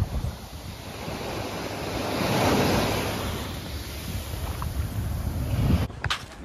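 Mediterranean Sea waves wash onto the shore at Barcelona, a loud continuous surge and hiss that swells and recedes, with wind buffeting the microphone and a short clatter near the end.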